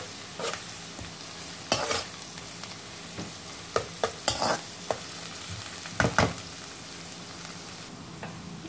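Ginger-garlic paste fries in a pan, a soft steady sizzle broken by repeated scraping strokes of a spatula, close and fairly loud.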